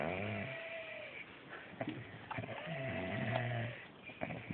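A man snores loudly and close, with raspy, rumbling breaths repeating in a slow rhythm, each drawn-out inhale rattling before the next one.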